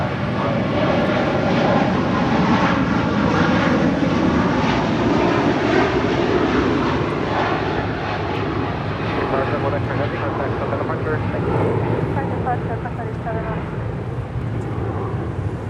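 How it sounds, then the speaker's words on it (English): A Qatar Airways Airbus A350-1000 jet departs Los Angeles International Airport for Doha, its engines making a loud, steady roar that fills the whole stretch and holds with little change while a voice talks over it. "That is Qatar Airways 290 departing to Doha on the A350-1000."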